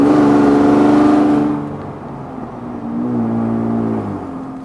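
A decatted 2019 Ford Raptor truck accelerating: a loud, raspy exhaust roar falls off after a second or two, then swells again as a quieter droning rev, heard up close with no voices.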